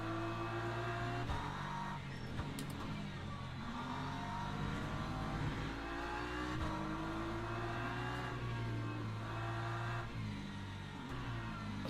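Race car engines roar continuously while running behind a BMW in Le Mans Ultimate, a loud, sustained drone with shifting pitch as revs rise and fall.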